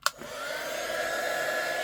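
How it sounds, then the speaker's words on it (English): After a sharp click, a hair dryer whirs into a steady, close, even blowing hum as it dries gesso and ink on tea-stained paper ephemera. "I've just got this dryer."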